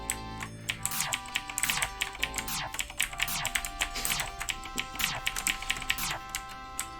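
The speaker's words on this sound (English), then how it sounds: "like what a fake typing sounds like" Rapid, exaggerated keyboard typing, keys clattering in a dense, uneven flurry that sounds deliberately overdone rather than real work, close and steady with no voices.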